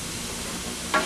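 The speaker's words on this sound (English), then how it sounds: "And give it a stir." Salt-and-pepper-seasoned food is stirred in a sizzling pan, a brief scrape over a steady frying hiss.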